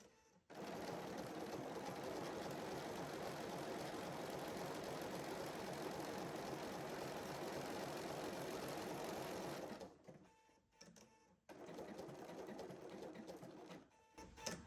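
A sewing machine runs a feather stitch on crazy patchwork for a fabric heart, humming and clattering steadily for about ten seconds, then stopping and restarting in short bursts.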